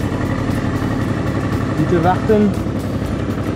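Motorcycle idling at a toll booth on a mountain road in Tyrol, a steady low throbbing engine close by, with a brief spoken exchange over it.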